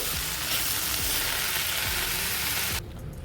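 Chopped chukka kura greens sizzle loudly in a hot pan with tomato while being stirred, a dense continuous frying hiss with soft scraping, cutting off near the end.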